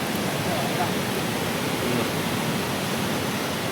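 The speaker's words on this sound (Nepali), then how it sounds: "खोला चाहिँ यहाँ हो" A river rushing nearby, a dense continuous roar of flowing water that fills the whole stretch evenly and loudly, with no breaks.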